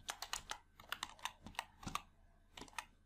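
Keys clatter on a computer keyboard in short bursts of quick taps with brief pauses, close and clear, as a spreadsheet entry is typed in Excel; no voices.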